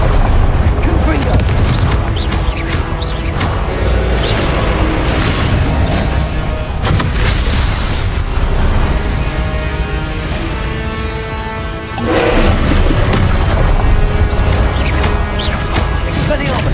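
Confringo blasting spells go off again and again in Hogwarts Legacy, loud booming explosions layered over dense combat noise and voices, with a short dip in the din before the blasts resume.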